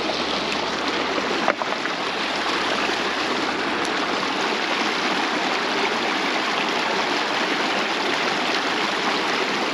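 A shallow, clear trout creek rushes in a loud, constant broadband wash close by, with one brief knock early on and no voices.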